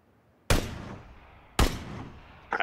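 Two loud single gunshots in PUBG, each a sharp crack with a long decaying tail about a second apart, followed by the start of a third, near and with no talk.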